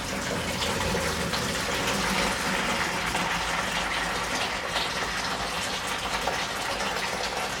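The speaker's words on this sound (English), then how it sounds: "Then we're going to add 2 litres of boiled water" Two litres of boiled water pour into a plastic beer fermenter as a steady, close, rushing splash lasting several seconds without pause.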